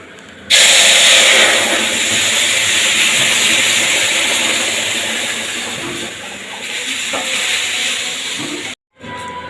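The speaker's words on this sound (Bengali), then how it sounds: "খুব সুন্দর যখন গন্ধ বেরোবে তখন ডালটা ফোড়ন দেবো" Biuli dal is poured onto hot tempering spices, setting off a sudden, loud, steady sizzling hiss. The sizzle slowly fades over several seconds, then cuts off abruptly.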